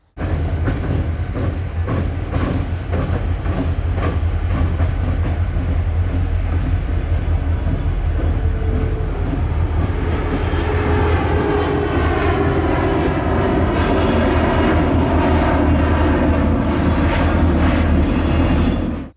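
GP38 locomotives, led by a long-hood-forward unit, run light out of a rail yard, their diesel engines rumbling loud and close with a deep steady throb that swells and brightens toward the end, no voices present.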